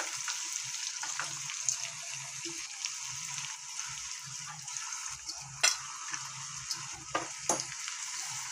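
Crushed garlic sizzling in hot oil in a pan, a steady soft crackle and hiss with occasional sharper pops, close and fairly quiet, no voices.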